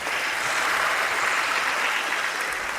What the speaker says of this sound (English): So a big round of applause for all our panelists.